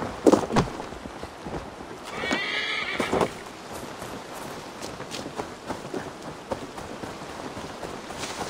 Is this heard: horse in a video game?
yes